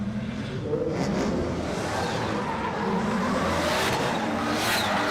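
Drift car tearing through a competition run, a steady, dense engine roar with tire noise filling the whole stretch, moderately distant and continuous without any talk.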